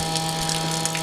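A 12V water pump runs in a campervan tap system with a steady electric hum and whine, close and continuous, while faint splashing water flickers over it.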